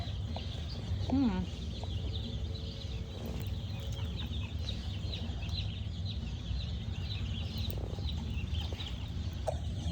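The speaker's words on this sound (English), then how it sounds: "So many little chickies." Little chicks and chickens clucking and peeping on a farm, a steady chorus of soft calls with a few sharper chirps, while a person talks quietly nearby.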